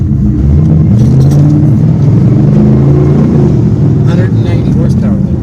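A 1984 Pontiac Trans Am engine runs loud and close as the car pulls away, a steady heavy drone with a voice talking over it.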